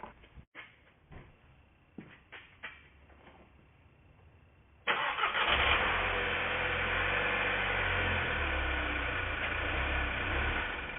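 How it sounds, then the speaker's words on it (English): A VW GTI with a fault that makes its idle surge and die, heard with the mass airflow sensor plugged in. Faint clicks and rustles come first, then the engine abruptly runs loud and steady up close. "The idle surges and then it dies."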